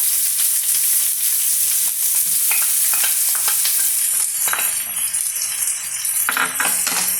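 Chopped onions fry in a pan over a low flame with a loud, continuous sizzle, and stirring scrapes and light clinks rattle through it close by.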